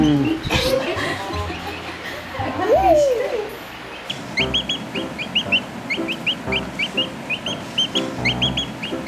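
A pet chick chirps in rapid, repeated high peeps that come close and clear in a steady run after a voice, with people talking at the start.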